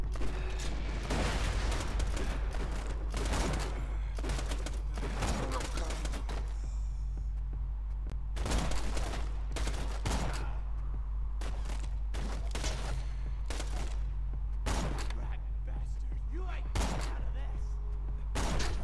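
Gunfire in the video game Borderlands 2: loud, repeated bursts of shots at irregular intervals throughout, over a steady low game hum.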